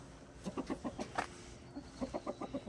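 Backyard hens cluck in short repeated bursts, close and moderately loud, a rhythmic string of low clucks that pauses briefly and resumes.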